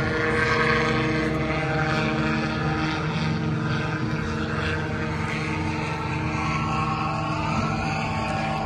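Gyrocopter powered by a Rotec radial engine flying, a steady, loud, droning propeller and engine roar with dense harmonic hum held evenly throughout, no voices.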